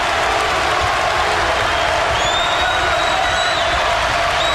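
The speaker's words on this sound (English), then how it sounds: "And it opened up the crowd to get back on their feet." A basketball arena crowd in a Kentucky game against Miami (OH) roars and cheers steadily at a constant loud level, a dense sustained wash of voices with a few whistles.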